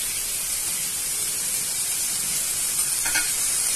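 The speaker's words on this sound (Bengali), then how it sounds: "আমি কড়াইতে পেঁয়াজ গুলো দিয়ে দিচ্ছি।" Onions fry in a little white oil in a wok for a spicy prawn masala fry, giving a steady, dense sizzling hiss with a faint stir or clink near the end and no talking.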